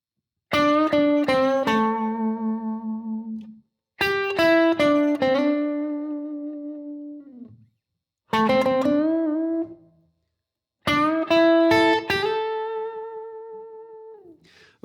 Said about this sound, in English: I'm using the neck pickup on this guitar here